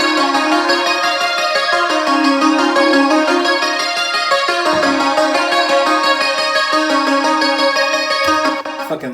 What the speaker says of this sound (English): I just took all of these different like really long, lush lead sounds and I put them through the arpeggiator.